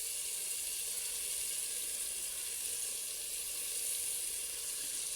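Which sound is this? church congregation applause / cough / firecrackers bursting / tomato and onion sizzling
tomato and onion sizzling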